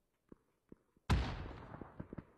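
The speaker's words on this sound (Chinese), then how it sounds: "旁边木子里的话已经掏了一颗雷" A grenade blast in a PUBG tournament match, preceded by a few faint, sharp clicks and thuds, then one sudden loud explosion trailing into a rumbling decay with scattered small pops.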